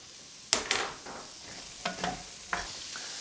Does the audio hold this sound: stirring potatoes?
yes